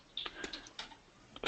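Typing on a computer keyboard indoors, a short run of separate key clicks with small pauses between them, close and clear, with no talking.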